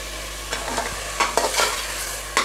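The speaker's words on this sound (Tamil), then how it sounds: "கொஞ்சம் தக்காளி நல்லா வதங்கி வரட்டும்." Tomatoes sautéing in a pan over a full flame after salt goes in, giving a constant loud sizzle broken by several scraping stirs of a spoon.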